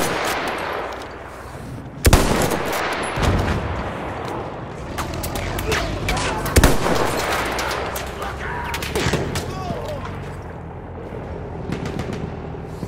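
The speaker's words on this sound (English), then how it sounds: "Enemy machine gun over there." Enemy machine gun fire in the Battlefield 1 video game rattles in dense, sustained bursts, with sharp nearby shots and heavy booms layered through a loud battlefield din, while voices talk underneath.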